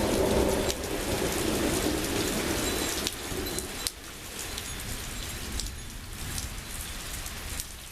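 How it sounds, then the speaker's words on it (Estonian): Steady rain pours during a moderate summer thunderstorm in Simuna, Lääne-Viru County, Estonia, a dense continuous hiss with low rumbling thunder underneath, alone without voices. "Kakskümmend minutit enne kella 3 jätkus vihmasadu ja välke oli ikka üsna palju."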